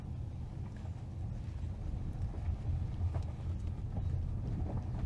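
Inside a Hyundai Alcazar Signature automatic driving in comfort mode, a steady low road and engine rumble fills the cabin with faint wind noise, continuous and even.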